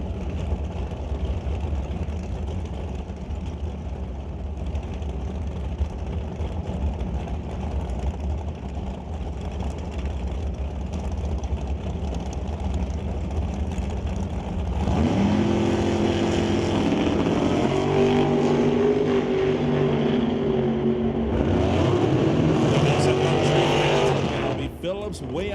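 Drag racing at a Super Pro race, a Mustang against a Camaro: a steady engine rumble that swells into loud roaring launches partway through, under an announcer's talk.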